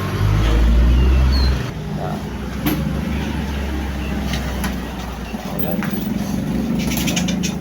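An old-model Honda Wave Alpha motorcycle, fed from a temporary fuel supply, starts with a loud low rumble, then settles into a steady, uneven idle close by.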